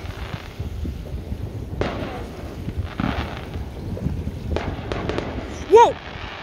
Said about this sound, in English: I'm videoing the fireworks.